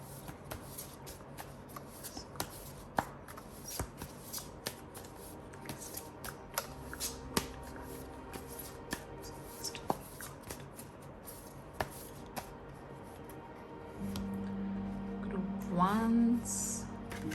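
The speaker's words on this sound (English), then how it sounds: "And let's see the tarot cards." Tarot cards being shuffled by hand, a steady stream of soft riffling clicks and taps, with a brief faint voice near the end.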